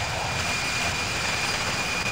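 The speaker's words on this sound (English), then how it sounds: "I don't know why the right engine for some reason sounds really choppy" A simulated jet engine roars in the Infinite Flight game, with the right engine sounding choppy, a steady, loud broadband rumble with a thin high whine running through it.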